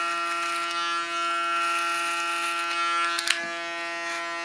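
Electric hair clipper shaving the side of a head, a steady close buzzing hum running continuously with a brief dip and a couple of small clicks near the end, no talk.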